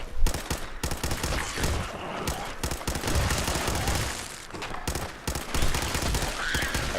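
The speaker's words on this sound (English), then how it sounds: "this pipe rifle just makes mincemeat out of these guys" Rapid bursts of pipe rifle gunfire in Fallout 4 crackle loudly and almost without pause, overlapping shots forming a dense fusillade across the whole stretch.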